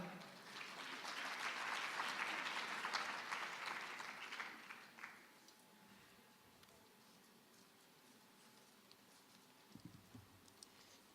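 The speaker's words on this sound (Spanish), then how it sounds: "Un aplauso para él, por favor." Audience applause for a conference speaker at a business summit, a dense, loud burst of clapping for the first five seconds that fades into quiet room tone, with a few faint scattered claps near the end.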